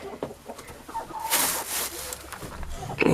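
Backyard chickens and a rooster cluck and squawk nearby in a short burst of overlapping calls, with one louder crowing outburst in the middle.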